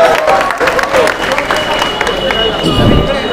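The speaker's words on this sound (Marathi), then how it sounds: "जोरदार टाळ्या होऊ द्या" Audience at a quiz show on competitive exams claps for a contestant's correct answer, with clapping mixed with crowd noise and voices, loud and close throughout.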